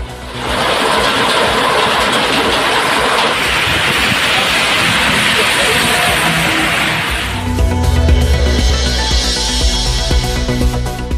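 Widespread rain falling across districts in Tamil Nadu, a steady loud hiss throughout that shifts partway into a rumbling, deeper wash with a low drone, no voices.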